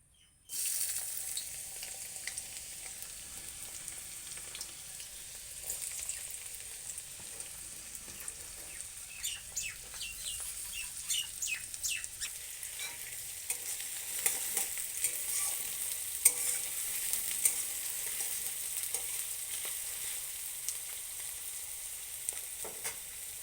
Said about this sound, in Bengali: তেল গরম হয়ে গেছে। এবার পেঁয়াজ দিয়ে দেব।